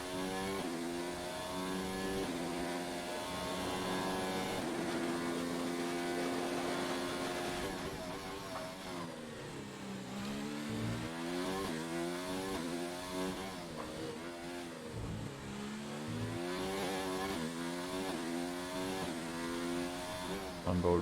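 Onboard engine of a Formula 1 car in a PS4 esports race at the Azerbaijan round, droning loudly and steadily with rising and falling revs and gear shifts throughout, a voice talking faintly underneath.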